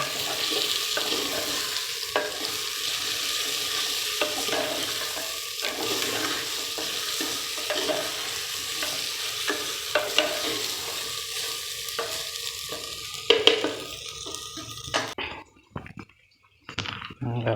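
Green chillies, tomatoes and spices sizzle and fry steadily in a pan for a country chicken curry, with stirring scrapes throughout, before the sizzle cuts out near the end.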